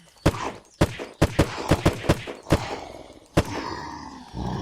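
Gunfire in the Unturned zombie survival game: eight or nine loud, sharp gunshots fired singly at irregular intervals, each with a short booming tail, followed by a rumbling low roar near the end.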